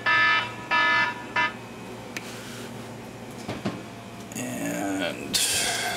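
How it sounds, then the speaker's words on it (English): A timer beeps in repeated electronic bursts during an oven bake of an HP 2015 laser printer formatter board, then clattering handling noises and rustling follow, with louder hissy scraping near the end. "the timer is about to go off"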